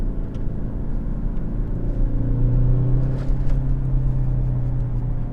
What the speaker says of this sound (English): So I'm in sport mode, I'm in manual. We're going around some twisty corners here.